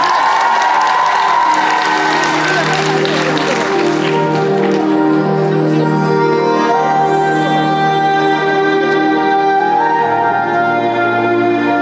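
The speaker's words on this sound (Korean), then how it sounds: "박수 주세요." A loud festival crowd at the Yeongdong World Gugak Expo concert cheers, whoops and claps continuously, while sustained musical tones rise underneath the noise.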